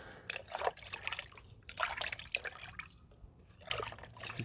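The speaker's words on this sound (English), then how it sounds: "Just gonna mix it all together." Neem oil and dish detergent mixture stirred in a container, giving soft irregular liquid sloshes and drips that come and go in short bursts, fairly quiet and close, with no voices.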